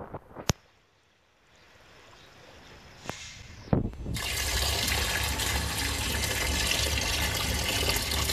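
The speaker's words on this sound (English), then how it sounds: "Wash carefully IC chips with water 3 times." IC chips are washed with water during gold recovery. A few sharp clinks come over a quiet hiss, then water pours and splashes loudly and steadily for the rest of the clip.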